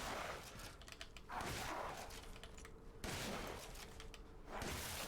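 In Resident Evil Village, a gun fires at an enemy in two or three bursts of sharp, distant-sounding shots over game ambience, each burst followed by a short lull.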